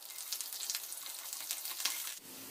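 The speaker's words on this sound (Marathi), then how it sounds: "मिरची आता व्यवस्थित परतून झाली आहे" Chopped green chilies with mustard seeds and curry leaves sizzle steadily in hot oil in a pan, a continuous bright frying hiss with small pops, easing off slightly near the end.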